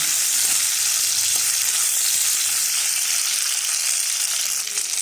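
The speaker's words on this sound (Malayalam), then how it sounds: "ഇതിലേക്ക് ഉലുവ ഇട്ട് കൊടുത്ത് ഉലുവയും പച്ചക്ക് മാങ്ങ ഇട്ട് കൊടുക്കാം മാങ്ങ പച്ചമുളക് ഇട്ട് കൊടുക്കാം എടുത്ത് ഒന്ന് വഴറ്റി കൊടുക്കാം" Fenugreek seeds, green mango and green chillies sauté in hot oil for a Kerala crab curry, giving a dense, continuous close sizzle and crackle at an even, loud level with no talking.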